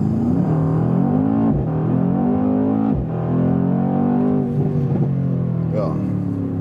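A 2018 Mercedes-AMG C 63 S Coupé pulls hard at full throttle, its V8 roaring loudly and steadily from the cabin, the pitch climbing and dropping back with each quick upshift.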